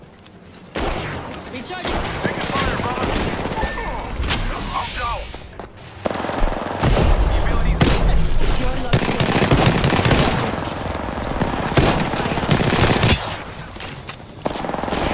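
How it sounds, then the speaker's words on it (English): Rapid automatic gunfire and bursts of shots from the video game Apex Legends, loud and dense through most of the stretch, with a player calling out briefly over the shooting. "They're shooting at me."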